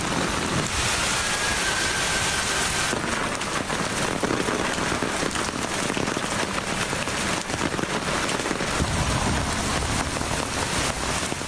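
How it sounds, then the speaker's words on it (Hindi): Torrential rain pours down in Lahore, a dense, loud, unbroken roar of water hammering surfaces that stays steady for the whole stretch, with no voices. "मूसलाधार बारिश ने लाहौर की सड़कें तालाब बना दी"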